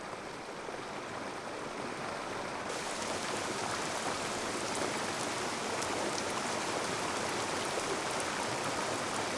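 A flash flood sends a wall of water and mud rushing down onto a campground, heard as a constant, loud, roaring wash that never lets up and has no voices over it.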